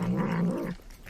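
A small cat-like creature in Crisis Core: Final Fantasy 7 Reunion lets out a short, close growling meow that drops off abruptly, leaving faint quiet behind.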